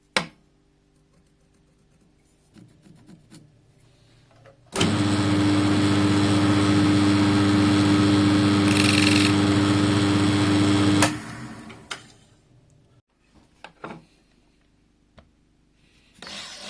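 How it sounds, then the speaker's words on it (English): A wood lathe used as a makeshift machine spins a rear brake part for a Triumph TR7, starting abruptly into a loud, steady motor hum with a strong low drone for about six seconds, then stopping amid quiet workshop clatter. "I don't have anything like the proper equipment, but I do have a wood lathe."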